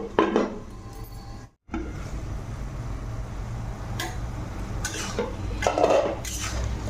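A lid goes onto a pot of mixed leafy greens cooking in water, giving sharp metallic clanks and scrapes at intervals over a steady background hiss, with a brief silent gap early on.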